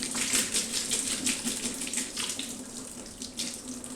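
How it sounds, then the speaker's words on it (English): Hot water runs from a tap into a sink at close range, a steady splashing gush while wool is rinsed after stovetop kettle dyeing, with no talk over it. "So I'll fill the sink up with hot water"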